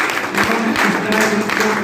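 An audience at a gathering in a Jain dharmashala hall in Araria, Bihar, claps in a steady, dense patter for about two seconds, with a faint tonal hum running underneath.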